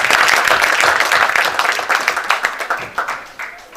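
Applause from an audience at a university humanities and social sciences faculty event, dense and loud at first, then thinning into scattered individual claps as it fades over a few seconds.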